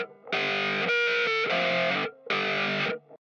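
Distorted electric guitar with a room reverb effect, playing loud sustained chords in two bursts split by a short gap, each chord ringing out fully.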